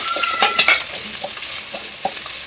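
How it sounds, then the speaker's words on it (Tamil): Ginger garlic paste fries in hot oil for a patti-style chicken biryani, crackling loudly at first and then settling into a steady sizzle, with a few sharp stirring scrapes near the pan and no voices. "இஞ்சி பூண்டு சாந்து எப்போதும் இந்த எண்ணெயில் தான் போடணும்."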